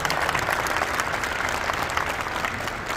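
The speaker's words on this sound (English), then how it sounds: "give Mr. Howard a warm round of applause" An audience at a football coach's press conference claps steadily in a dense, sustained round of applause that fills the room.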